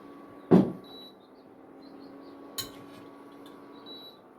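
A metal lid clanks onto a pot once, followed by a lighter clink a couple of seconds later over a faint steady hum.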